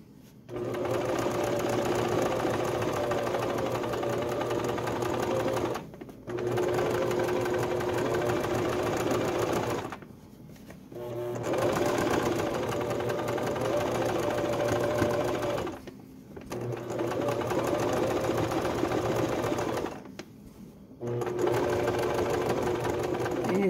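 A sewing machine stitches a baby quilt in long steady runs of rapid, even mechanical chatter, stopping briefly four times between bursts as the fabric is repositioned.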